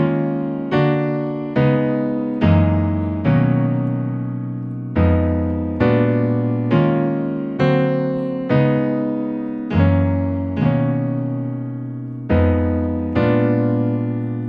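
A solo piano plays the verse of a song in a slow, even rhythm, each chord struck and left to decay, repeating in a steady cycle with no voices.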